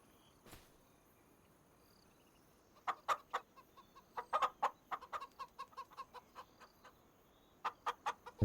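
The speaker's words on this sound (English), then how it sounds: "Here's some of the little chicks." Little farm chicks give a run of short, high clucks and cheeps, close by and in quick bursts after a brief quiet start, with no talking.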